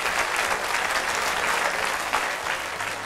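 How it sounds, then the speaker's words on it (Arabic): Audience applause for a child's story, steady and dense throughout, loud and close, with no voices over it. "صفقوا لآية عيسى على هذه القصة الجميلة"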